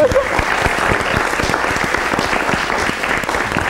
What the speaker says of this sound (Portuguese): Uma salva de palmas ao engenheiro Sam Good